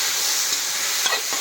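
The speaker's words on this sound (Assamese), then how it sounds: "এতিয়া টেঙা মাৰা দি পেলাই ভাজি আছোঁ" Potatoes and tenga mara fry in a pan, a steady loud hiss of sizzling oil for the whole moment, with faint stirring scrapes and no talking.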